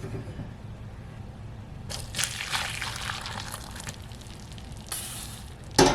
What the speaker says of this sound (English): I'm just going to use my strainer here and this pot that has a little spout and pour my tea in it.